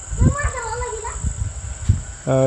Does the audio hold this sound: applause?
no